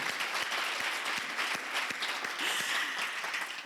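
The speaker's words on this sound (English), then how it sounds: "we will give you another round of applause" An audience at a volunteer awards ceremony in Memphis applauds warmly, a dense, even round of clapping that holds steady for several seconds with no speech over it.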